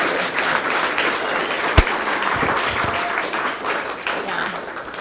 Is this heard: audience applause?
yes